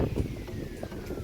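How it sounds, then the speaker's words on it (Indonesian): Strong wind blowing outdoors at a grape-growing plot, a steady low rushing roar with gusty buffeting against the microphone, continuous across the short moment with no talk. "lihat kan kondisi di sini juga anginnya keras sekali"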